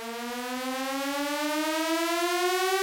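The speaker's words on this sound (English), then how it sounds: "First of all, once again, an impact, pretty generic riser." A generic riser effect in a synthwave dubstep track, a sustained buzzy synth tone steadily sweeping upward in pitch, loud and alone throughout.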